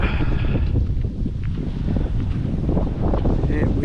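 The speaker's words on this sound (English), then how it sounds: "yeah, windy." Steady wind buffets a riverside campsite on the Burdekin River at Macrossan, a continuous rough rumble across the microphone with low gusting and no pauses.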